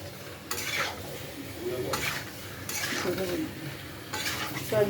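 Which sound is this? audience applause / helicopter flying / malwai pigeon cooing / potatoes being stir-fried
potatoes being stir-fried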